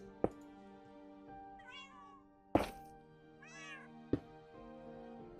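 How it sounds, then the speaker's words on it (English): Cats in the Minecraft video game meow several times over a steady background game tone, with a few sharp thunks scattered between the calls. "I can hear the cats."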